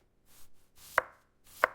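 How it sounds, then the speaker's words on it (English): A knife cuts through cabbage onto a board in two sharp, crisp chops with soft rustling strokes between them, close and clear. "I'm shredding the cabbage"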